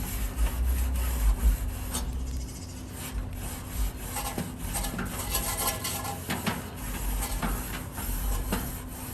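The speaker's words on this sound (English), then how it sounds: "Just brush any old residue off of there." A wire brush scrubs old residue off hot barbecue grill grates, a continuous scratchy rubbing with uneven strokes and metallic scraping, close and moderately loud.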